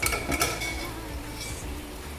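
A spoon mixes kabuli chana curry in a pot, giving a few metallic clinks and scrapes up close, then a soft stirring sound, brief and moderately loud.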